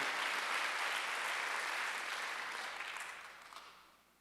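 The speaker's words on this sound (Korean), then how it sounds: "박수를 한번 하도록 해주세요" At a Sunday church service the congregation breaks into broad, dense applause, steady for about two and a half seconds before tapering off softly toward the end.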